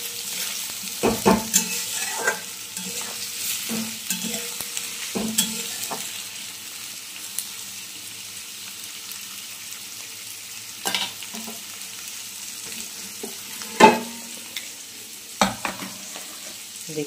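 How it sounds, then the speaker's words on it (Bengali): Onions frying in a pan for Bengali-style chicken kosha, with a steady soft sizzle and repeated scraping stirs of a spatula, sharper clanks near the middle and end. "এই যে আমি এখন পেঁয়াজ ভাজা করছি"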